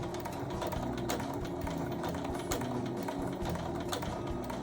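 A sewing machine stitches a blanket stitch with a continuous, close mechanical whir and rapid needle chatter at an even pace throughout, with no talking.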